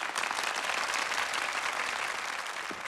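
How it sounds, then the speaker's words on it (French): A crowd claps steadily and evenly for a prison chaplain, a dense wash of applause held at a constant level throughout. "Je vous demande d'applaudir le père Avalon."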